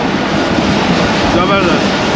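Tezgam express train in rainy weather cruising at about 107-108 km/h between Raiwind and Multan, a steady, dense rolling roar of wheels and carriage noise heard from on board, with a faint voice underneath.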